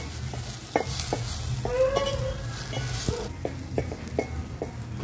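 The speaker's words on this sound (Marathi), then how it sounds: "कांदा पण छान शिजवून घ्यायचा आहे।" Onion cooks in a pot over a wood-fired stove for village-style gavthi chicken, with a steady close sizzle and occasional spoon scrapes and clinks as it is stirred.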